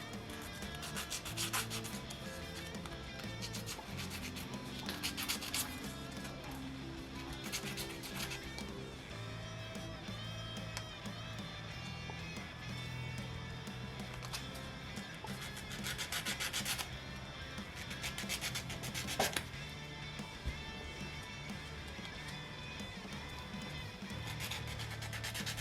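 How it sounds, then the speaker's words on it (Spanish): Sanding of a plastic 3D model kit piece for a Nanotyrannus figure, soft repeated rubbing strokes, faint and close, under steady background music. "Voy a lijar un poco esta pieza."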